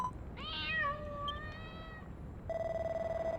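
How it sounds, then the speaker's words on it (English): A cat in the video game Dragon Quest Builders 2 gives one clear, drawn-out meow that rises and then falls, followed by a steady tonal game sound. "Oh, hey, a cat. Oh, just a kitty, eh?"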